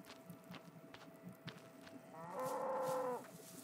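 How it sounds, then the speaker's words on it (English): A cow in the video game Rising World lets out a single clear, drawn-out moo near the end, after quiet scattered background sounds. No one speaks. "Whoa, there are two cows."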